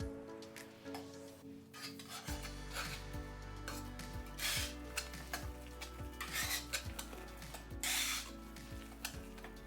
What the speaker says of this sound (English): Take a whisk, and we're just gonna whisk it up so they're nice and fluffy.